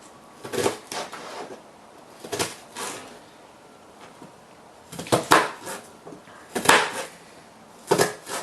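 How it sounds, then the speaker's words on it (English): A knife chops an onion on a cutting board in a kitchen, sharp knocks arriving in short irregular bursts with pauses between, close and fairly quiet, no talking. "So I'm chopping up the onion."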